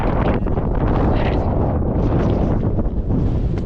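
Strong wind in Australia buffets the microphone in a steady, loud roar with gusty surges, no voices present.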